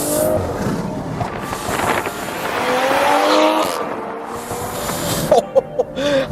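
Stage 2 tuned BMW M340i xDrive with a B58 engine accelerating hard in India, a loud continuous engine roar rising in pitch with tire squeal, ending in a few sharp bursts and pops.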